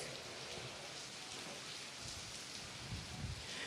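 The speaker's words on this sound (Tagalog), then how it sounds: "nakakaranas ng malakas na ulan at hangin itong bayan ng Santa Ana sa Cagayan" Heavy rain pours steadily during Typhoon Krising in Santa Ana, Cagayan, a constant hiss of falling water with gusty wind underneath, fairly faint and unbroken, no voices.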